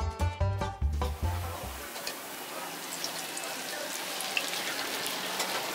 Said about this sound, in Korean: 1차로 쪄낸 만두를 기름에 튀기는 게 튀김 만두